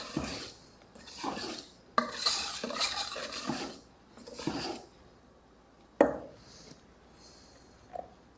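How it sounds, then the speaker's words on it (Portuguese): A utensil stirs cake batter for a bolo no pote around the sides and middle of a bowl, giving repeated scraping, swishing strokes in rhythmic bursts with brief pauses. The stirring is close and fairly loud, with no talk over it. "Mexendo com carinho a nossa massa, nas laterais e no meio."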